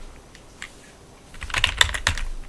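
Computer keyboard typing of C++ code, light sparse keystrokes at first, then a quick close burst of clicking keys, with no talking.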